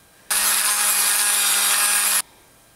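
A power saw cuts a piece off a handmade wooden lipless crankbait, a loud steady rasping whine lasting about two seconds that starts and stops abruptly, with near silence around it.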